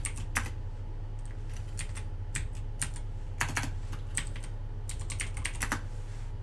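Keys clack on a computer keyboard as commands are typed into a Linux command line through PowerShell, arriving in quick irregular bursts and pauses over a steady low hum, with no voices.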